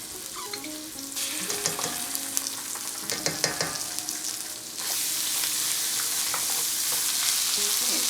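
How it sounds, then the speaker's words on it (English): Canned pumpkin fries in hot oil in a pan, a steady close sizzle with scraping stir strokes in the first half, then a louder, even hiss of frying. "now we're just gonna fry this in the oil really quickly"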